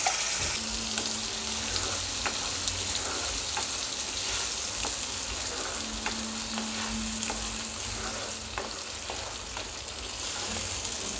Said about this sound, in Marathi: यात आता आपलं आहे मिक्सरमध्ये केलेलं आपण वाटण आहे ते टाकून देऊ याच्यामध्ये